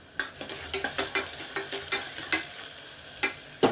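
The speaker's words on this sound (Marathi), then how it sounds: "त्यात राई आणि जिरं घालून घेते। ते तळतळलं की मी कांदा घालणार आहे।" Mustard seeds and cumin frying in hot oil in a pan, with onion going in, sizzle close by as a utensil stirs in a quick series of sharp scraping strokes, about a dozen in a row.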